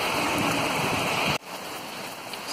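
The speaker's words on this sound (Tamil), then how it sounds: "பார்த்தீங்களா நல்லா மழை பெய்யுது," Heavy rain pours down as a dense, steady hiss filling the whole clip, loud at first and then dropping abruptly to a somewhat softer but continuous roar partway through.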